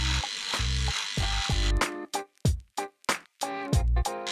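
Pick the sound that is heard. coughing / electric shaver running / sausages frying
electric shaver running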